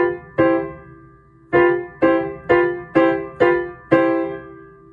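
Piano playing the chords of Czerny-Germer study number 2: six struck chords in a clear rhythm with pauses between groups, each ringing and decaying, close and moderately loud, with no talk.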